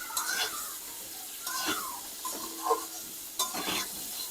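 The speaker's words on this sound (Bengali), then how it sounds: "এর মধ্যে একটু হলুদ আর সামান্য একটু নুন দেব, দিয়ে এটাকে ভাজবো" Khichdi ingredients are stirred and fried in a pot with turmeric and salt, giving a soft sizzle under scraping spoon strokes that come in a few separate bursts with quiet gaps between them.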